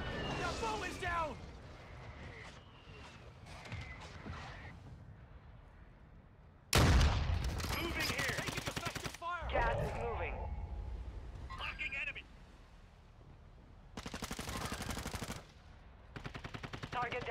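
Automatic gunfire in a shooter video game, loud sustained machine-gun bursts that start abruptly and recur in several long volleys, with game voice lines and callouts in between.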